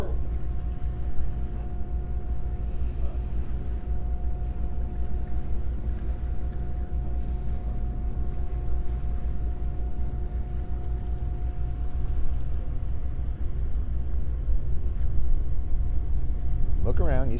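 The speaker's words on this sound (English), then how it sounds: "They know the sound of the boat, the sound of the engines" A whale-watching boat engine drones steadily with a low, constant rumble and a faint steady hum, growing slightly louder toward the end.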